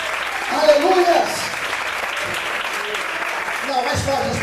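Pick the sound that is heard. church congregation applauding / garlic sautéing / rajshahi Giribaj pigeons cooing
church congregation applauding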